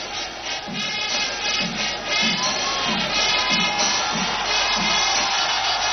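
Loud crowd cheering and roaring from a dense festival throng as ornate umbrellas are raised during the Kudamattam ceremony, a continuous swelling roar with rhythmic chanting pulses underneath.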